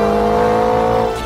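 A McLaren 620R's 3.8 litre twin turbo V8 revs loudly and close up in a dense, sustained engine roar that eases slightly at the very end.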